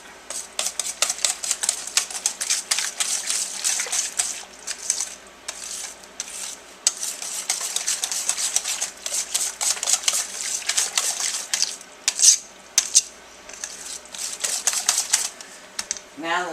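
A spoon repeatedly clinks and scrapes against a bowl while pumpkin pie filling is stirred, a quick, irregular rattling run of sharp taps that continues close up with brief pauses.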